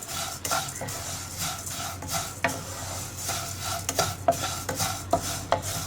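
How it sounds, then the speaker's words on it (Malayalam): Vermicelli (semiya) frying in ghee over a low flame in a pan for semiya payasam: a steady soft sizzle with repeated scraping stirs of a spoon against the pan, close and continuous. "അപ്പോൾ നമ്മുടെ സേമിയ ഫ്രൈ ആയി വന്ന് തുടങ്ങുന്നുണ്ട്"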